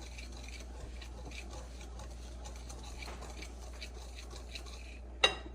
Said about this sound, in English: We're going to combine our butter, 1 cup of sugar. We're going to whisk to combine.